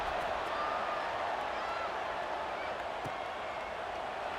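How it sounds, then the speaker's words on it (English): Steady crowd buzz filling a stadium in the College Football 26 video game, a dense, even roar of many voices that holds throughout at a distance. "this crowd is buzzing after that last score"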